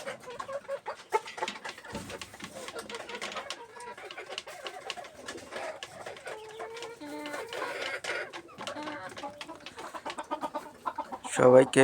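Desi chickens cluck and call on a farm during egg collection, with mid-level bird chatter running throughout. Some faint voices sound in the background, and a louder burst of clucking comes near the end.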